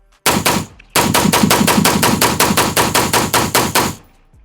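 Rapid rifle fire at a shooting range, two close, loud bursts of evenly spaced shots, a brief pair followed by a long string of about fifteen cracks, with no talk.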